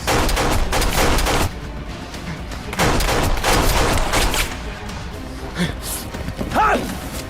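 Gunfire in a Filipino action drama scene, a fusillade of several loud, sharp bursts cracking in close succession, with brief vocal sounds near the end.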